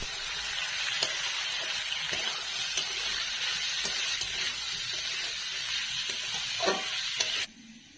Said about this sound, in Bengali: এবার আমরা ওইতে বিনসটা দিয়ে ভেজে নেব।